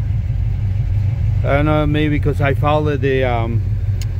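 A Pontiac Grand Prix engine idles steadily after an ignition switch repair, a low constant rumble running throughout while someone talks over it in the middle.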